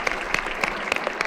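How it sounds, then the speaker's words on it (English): Brief applause from a conference audience after a panel discussion, a short burst of fairly close, even clapping with no voices. "give our panel a round of applause"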